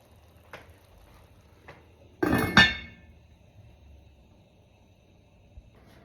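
A metal lid clatters onto a pot of simmering beef honeycomb with one loud ringing clank, preceded by a couple of light taps in an otherwise quiet kitchen.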